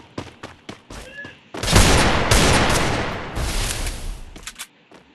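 Video game gunfire from a Minecraft survival match: a string of sharp separate shots, then a dense roaring burst of rapid fire lasting a few seconds, followed by a few more scattered shots.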